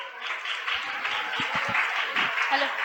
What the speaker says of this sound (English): Once again a huge round of applause guys.